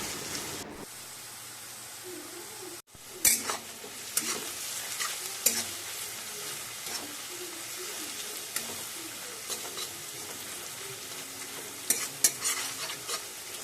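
Thin shredded potatoes sizzle and crackle in hot oil in a pan, with occasional sharp scraping and stirring clicks over the continuous frying hiss.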